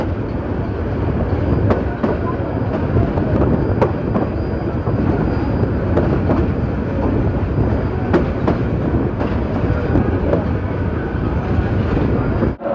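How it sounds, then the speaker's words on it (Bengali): Titas Commuter train pulling into platform 1 at Brahmanbaria railway station, a steady loud rumble of wheels and carriages with rhythmic clickety-clack sounding throughout. "Brahmanbaria rail station Titas commutator ট্রেনটি 1 নম্বর প্ল্যাটফর্মে এসে প্রবেশ করছে।"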